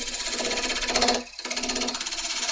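A bowl gouge cuts a piece of unknown wood spinning on a lathe, giving a fast rhythmic chattering rasp, close and steady, that briefly drops out before resuming.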